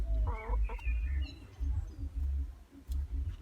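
Chickens cluck close by in a rooftop garden, short soft clucks and low murmuring calls repeating unevenly across a few seconds.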